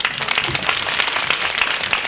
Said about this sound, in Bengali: হাততালি দেন, জোরে হাততালি দেন।